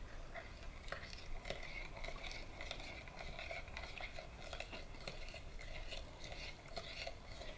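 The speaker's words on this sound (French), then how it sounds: "je viens bien mélanger dans mon bol" A spoon stirs dissolved yeast in a bowl while making homemade bread, giving soft, steady scraping and light clinks in a continuous rhythm close by.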